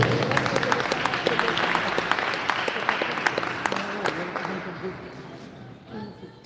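A crowd at a community gathering applauds in a dense wash that carries sharp individual claps, with voices mixed in, then fades out toward the end.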